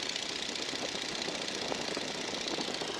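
Steady drone of a training airplane's engine as the throttle is eased back toward 1,750 rpm, a continuous even roar heard close and loud with no voices over it.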